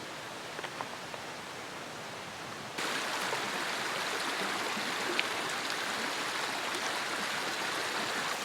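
A mountain stream rushes steadily on a backcountry day hike, a constant broadband wash of water close by that grows noticeably louder partway through and then holds even.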